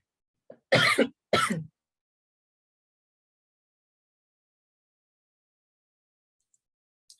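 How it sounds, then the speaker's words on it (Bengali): A person nearby gives two quick, hoarse coughs in succession, close and clear, followed by silence. "কাশি চলে আসছিল"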